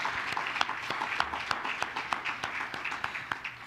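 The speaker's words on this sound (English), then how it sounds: "So I'd like to give Andy another round of applause." Guests at a Bahamas diaspora independence awards dinner give Andy another round of applause, a moderate crowd clapping in a fairly even rhythm with distinct individual claps standing out.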